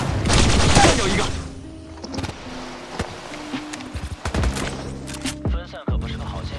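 Enemy gunfire in the mobile battle royale Apex Legends Mobile: dense bursts of automatic fire crackle loudly at first, then give way to scattered single shots and short volleys, with booming impacts and footstep-like clatter in between.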